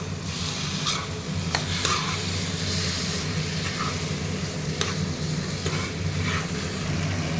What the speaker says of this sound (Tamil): இப்போ இதை நல்லா மிக்ஸ் பண்ணிக்கலாம்.